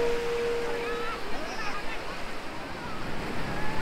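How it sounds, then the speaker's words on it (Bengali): Rough sea waves roll and crash on the beach at Puri in a loud, continuous roar of surf, close to the shore, with wind buffeting the microphone. "আর এই যে সমুদ্রের ঢেউ, উত্তাল সমুদ্র।"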